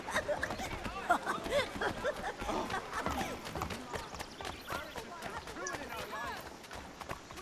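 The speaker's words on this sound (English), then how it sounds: "That horse needs to stop following me around" Horse hooves clip-clop in the Assassin's Creed 3 video game in colonial Boston, a steady patter of footfalls running beneath ongoing talk and game sounds.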